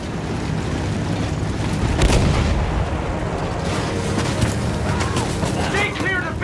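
Field gun artillery fire in the video game Battlefield 1: a dense, continuous barrage of booming blasts and rumbling explosions, loud and close, with battlefield voices mixed underneath.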